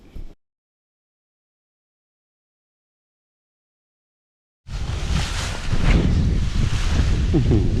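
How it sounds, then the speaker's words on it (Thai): Strong, roaring wind buffets the microphone outdoors during a rubber-frog-lure snakehead fishing trip on a canal, a brief burst at the start, then several seconds of silence before a sustained loud gust of rumbling wind noise. "ลม"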